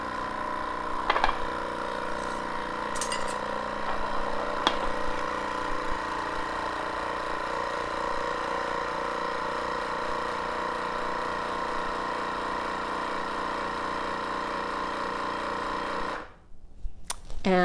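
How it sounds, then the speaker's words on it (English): A vacuum sealer pump draws air from a wide mouth jar of dehydrated celery leaves, a steady droning hum running close and even for about sixteen seconds before cutting off with a short shift in tone at the end. "So I'm fitting my sealer over the wide mouth jar, plugging in the vacuum hose,"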